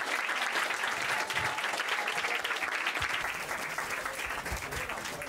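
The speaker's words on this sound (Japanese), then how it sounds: "46に大きな拍手をお願いします" Enthusiastic audience applause at a rap battle final in a club, a dense, steady roar of clapping that carries on for several seconds.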